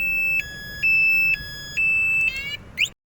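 Close and loud, a motorcycle anti-theft alarm sounds steady beeping tones that alternate between two pitches in long even pulses, then ends with a quick chirp before cutting to silence.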